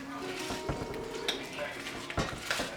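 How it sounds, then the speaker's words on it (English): Spoon stirring potato soup ingredients, including cream cheese, in a crockpot, with soft scraping and clinks against the pot at irregular intervals, close by, over faint background noise. "I'm just gonna stir this all around."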